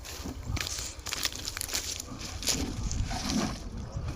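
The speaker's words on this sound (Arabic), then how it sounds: "بملى ميه من هنا" Water being poured into a bucket outdoors on a sheep farm, a steady faint rushing and sloshing with a few irregular splashes and no talk.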